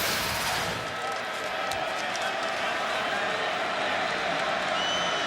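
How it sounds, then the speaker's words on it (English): A stadium crowd at a 2008 Oklahoma Sooners vs Nebraska Cornhuskers college football game roars in a steady, broad wash of cheering. A commentator talks over the crowd noise. "So now the crowd into it."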